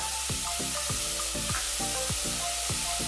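Onion and garlic sizzle steadily in a hot pan for a crab filling, a continuous close frying hiss with a few soft stirring scrapes, no voices.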